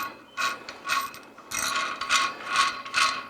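Small handle being unscrewed on a Celestron CGX telescope mount: a series of short ratcheting, scraping bursts of metal threads, close and fairly clear, with brief pauses between turns.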